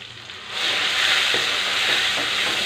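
Ground spice paste with cumin, turmeric and chicken sizzles in a hot pan for a chicken coconut curry, a bright steady frying hiss rising after a quieter start, with soft scrapes of stirring.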